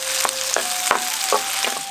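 Mustard seeds, fenugreek, curry leaves, chillies and chopped shallots sauté in hot oil, a loud, close, continuous sizzle broken by several sharp spoon-stirring scrapes.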